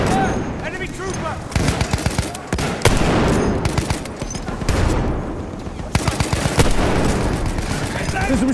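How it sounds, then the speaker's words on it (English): Rapid, loud machine-gun fire from an enemy gunner in Battlefield 1, continuous rattling bursts with explosive booms layered through the battle din. "There's a machine gun!"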